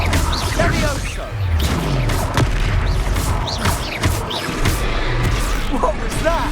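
Levioso spell cast during an armored troll boss fight in Hogsmeade in Hogwarts Legacy, a loud booming burst amid continuous rumbling combat noise and crashing impacts.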